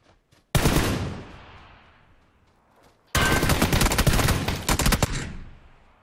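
Bursts of automatic gunfire from a teammate's rifle in PUBG, two loud sustained volleys separated by a short lull, close and dense, with no talk over them.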